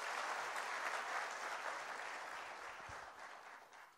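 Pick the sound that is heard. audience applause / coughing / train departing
audience applause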